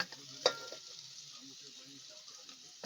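Onion and spices such as chilli powder and cumin sizzle in a pan over a traditional clay stove, a soft steady frying hiss with one sharp utensil clink near the start.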